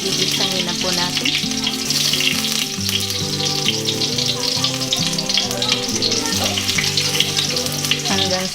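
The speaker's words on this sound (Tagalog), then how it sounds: "ilagay na po natin yung bawang. Gigisahin na po natin." Garlic sautés in hot oil in a pan (kawali) for Japanese chicken curry, a loud, continuous crackling sizzle that runs throughout beneath prominent background music.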